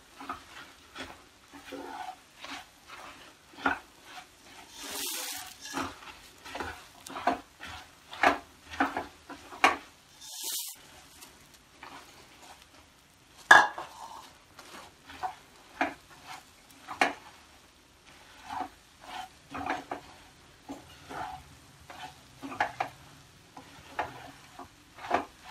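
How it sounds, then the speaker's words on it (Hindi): Puffed rice stirred in a pan for laddu over low heat, a long series of crisp scraping and rustling strokes with occasional clinks, close and fairly quiet, in a rough steady rhythm. "अब हम इसमें मिक्स करेंगे परमल।"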